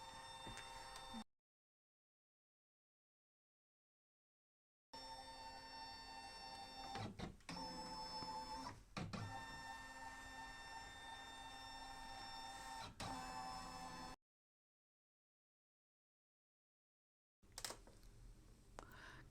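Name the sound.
scanner scanning pillowcase embroidery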